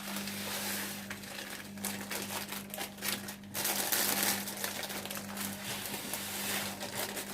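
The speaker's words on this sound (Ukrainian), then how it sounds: "Потім по пакетику льону, тут по 150 грам." Flax seeds poured from a 150-gram packet while preparing granola: a continuous dry rustling patter with crinkling of the packet, fairly close and moderately quiet, over a faint steady hum.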